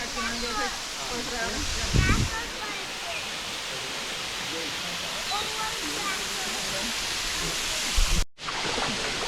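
Gozalandia waterfalls in San Sebastian, Puerto Rico roar as a dense, constant rush of falling water, with people talking over it and a brief cut near the end.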